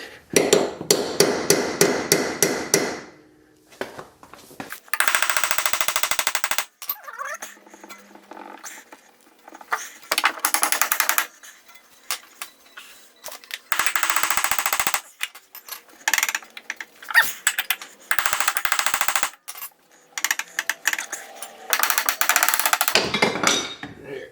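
Rapid bursts of metallic hammer blows on a Toyota Celica rear sway bar ring out close and loud, in rattling volleys separated by short pauses, with a few single strikes in between.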